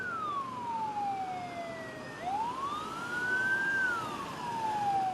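A fire engine siren wails, sweeping down and then rising again, clear and fairly close over a steady traffic rumble in Jakarta.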